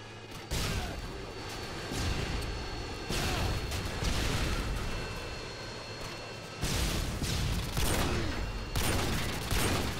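Gunfire in a Call of Duty-style video game, several rapid bursts of shots separated by short gaps, moderately loud and heard without speech.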